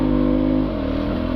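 A Beta 300RR Race Edition dirt bike engine runs steadily and close by, holding a smooth, even drone with a slight drop in pitch partway through, with no talk over it.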